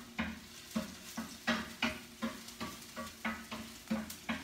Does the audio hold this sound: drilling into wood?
no